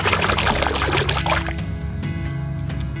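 Water pouring and splashing over a fossil billfish vertebra as it is rinsed outdoors, a loud close gush that eases into a softer trickle.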